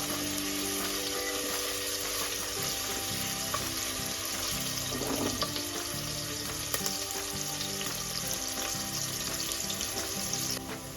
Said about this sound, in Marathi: तांबूस रंगावर कांदा भाजून घ्यायचा